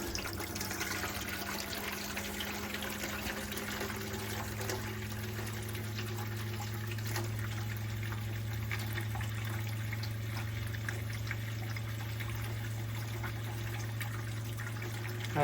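Water and RV antifreeze run from a galley sink faucet on a Marine Trader boat during winterizing, a steady low stream with a pump hum that shifts pitch partway through, continuous and close, with no talk.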